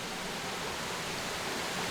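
Steady broadband roar of a waterfall, constant and enveloping with no breaks, heard alone at close range.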